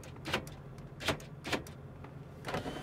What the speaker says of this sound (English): Door locks.